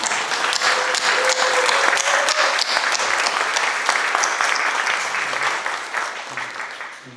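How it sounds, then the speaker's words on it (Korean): An audience at a graduation service for a lay ministry and visitation training course claps in thanks for the lecturers, a dense, loud, sustained applause that gradually thins toward the end. "우리 학생들과 우리 모두가 감사의 박수를 드립니다."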